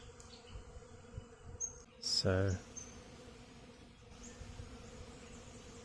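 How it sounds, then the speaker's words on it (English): Bees buzz faintly around blossoming European sugar plum trees in long grass, a soft, continuous drone under quiet outdoor ambience, broken by a brief short word and a sharp click. "You can hear the bees."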